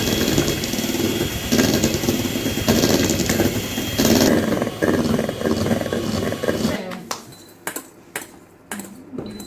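An electric hand mixer whirs loudly and steadily under people talking in a home kitchen, then cuts out, leaving scattered clinks and knocks of utensils.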